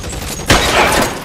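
A single loud gunshot rings out in the L.A. Noire game on PS4, a sharp close crack followed by a short rumbling echo and tail.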